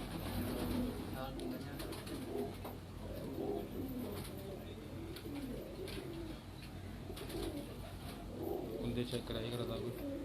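A female pigeon gives soft, repeated low coos close by, heard under people talking throughout.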